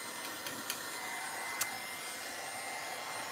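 A heat gun drying a mixed-media art composition, a steady blowing whoosh that runs throughout at even loudness, with a few faint clicks and no talk.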